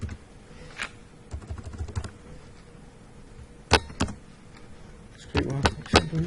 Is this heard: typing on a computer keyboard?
yes